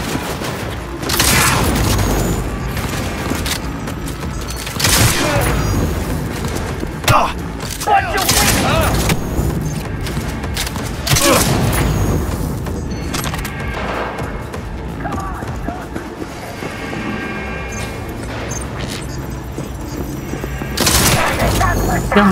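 Repeated heavy blasts from a big shotgun in Cyberpunk 2077, booming at irregular intervals amid ongoing combat clatter, with voices talking throughout.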